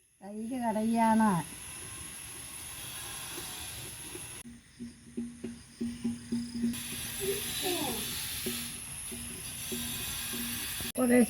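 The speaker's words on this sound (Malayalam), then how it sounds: "തൈര് കടയാണ്." Curd being churned by hand in a copper vessel to make ghee, a series of rhythmic swishing strokes following speech at the start, with a steady hum beneath and a voice returning briefly.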